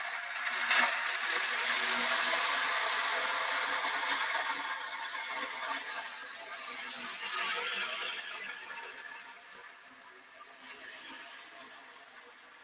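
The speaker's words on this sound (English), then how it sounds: "I use this drum to bring us ocean sounds" An ocean drum is tilted slowly during a meditation, its rolling beads making a soft, continuous hiss that swells and fades like waves washing in and out.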